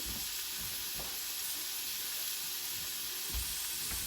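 Broken-up sausage sizzles steadily in a frying pan while pizza toppings are prepared, a continuous bright hiss with occasional soft stirring bumps, close and alone.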